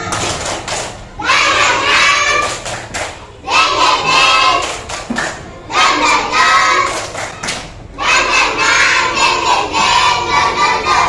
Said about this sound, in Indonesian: Tepuk semangat dulu. Tepuk semangat.